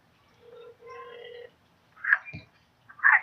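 A telephone gives a few short electronic tones, a steady two-part beeping pattern, followed by brief sharp bursts that may be a voice imitating the ring, heard close and fairly quiet.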